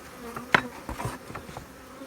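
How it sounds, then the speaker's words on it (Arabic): Honeybees at an opened beehive that seems somewhat aggressive buzz close by in a steady drone, with a few louder passes and brief knocks, and no talking. "شوية بيها شراسة هاي الخلية"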